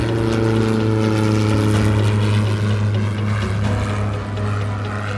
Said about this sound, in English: Cleared for takeoff. Have a safe flight.